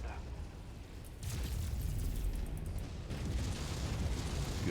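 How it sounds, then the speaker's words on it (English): Heavy weapons fire booms and rumbles through a mech combat video game, with a dense roar of blasts that swells and holds loud across the stretch, a voice speaking faintly beneath. "Get the feeling I'm wasting my time shooting at that right now."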